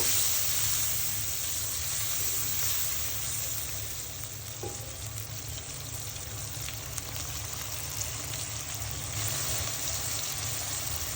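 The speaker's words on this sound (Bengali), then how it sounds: "নেড়ে মশলা পেঁয়াজের সাথে মিশিয়ে নিব" Garlic and ginger paste being stirred into onions in a frying pan for beef biryani, with a steady close sizzle and soft scraping of stirring running throughout.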